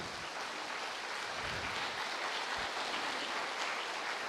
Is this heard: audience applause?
yes